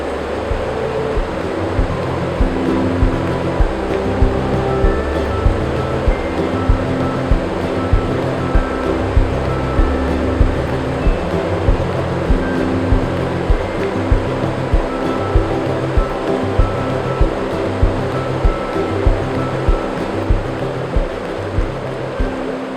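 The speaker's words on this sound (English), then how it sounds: "this beautiful waterfall behind me" A waterfall pours into a trout creek with a constant, heavy rushing roar that stays loud and unbroken throughout, with no voices over it.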